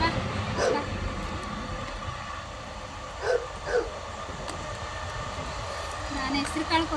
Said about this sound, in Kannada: ಟ್ರೈನ್ ಹೋಗ್ತಿದೆ ಫ್ರೆಂಡ್ಸ್